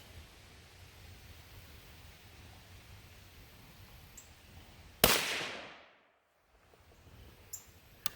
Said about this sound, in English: That's a pleasant little gun to shoot, I will say that.